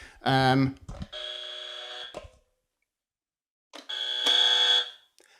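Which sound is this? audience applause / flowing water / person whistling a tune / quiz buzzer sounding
quiz buzzer sounding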